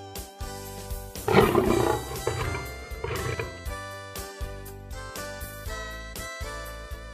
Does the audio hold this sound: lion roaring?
yes